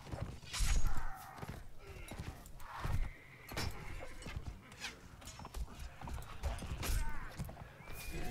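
Horses in the video game Mount & Blade Warband gallop with loud, near clip-clop hoofbeats and repeated neighs and whinnies amid battle clatter, no speech.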